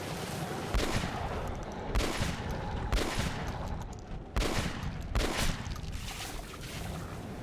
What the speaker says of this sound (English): I'm gonna use my shotgun